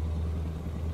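Scania R420 truck engine with 420 horsepower in Euro Truck Simulator 2, a low, steady droning rumble at a constant level, like idling, with no talk.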